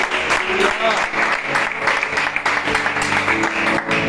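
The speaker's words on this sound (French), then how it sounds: "Est-ce qu'on peut acclamer pour nous?" A church congregation claps loudly and steadily as people cheer at a worship service, with a dense wash of applause and voices calling out beneath it.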